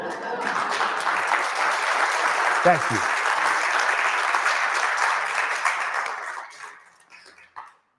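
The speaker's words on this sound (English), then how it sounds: "If I've earned those applause now" An audience applauds steadily for several seconds after a talk at a senior gathering, the clapping fading out near the end while a voice speaks briefly over it.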